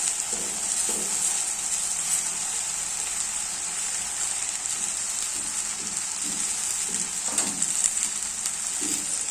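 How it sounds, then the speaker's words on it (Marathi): Soaked moong dal and chopped spring onion greens frying in hot oil, a steady dense sizzle with faint stirring taps, close and continuous, with no talking. "भिजवलेली मुगाची डाळ टाकून घेतलेली आहे आणि याच्यामध्ये टाकायची आहे ही कापलेली कांदा पाक"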